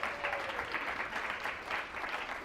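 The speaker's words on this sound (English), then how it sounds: "Round of applause." A room of people claps in a brief, fairly quiet burst of applause.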